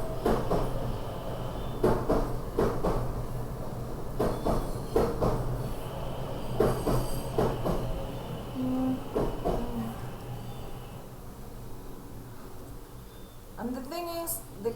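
A commuter train in Argentina rumbling past with repeated clacking and rattling wagon bursts, a sustained horn tone partway through, then fading to quieter ambience, with some distant knocks near the end.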